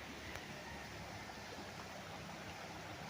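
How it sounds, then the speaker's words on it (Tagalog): A river runs through a three-hectare farm lot in Real, Quezon, beside a tree, with a constant soft wash of flowing water heard from a distance and one brief click near the start. "ito yung ilog mga kapraps ha, ang ganda niya"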